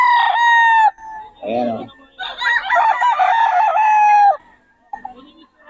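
Several roosters crow loudly and close by, one long crow after another, with clucking between them and a voice speaking briefly.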